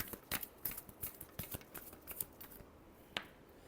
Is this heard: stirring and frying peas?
no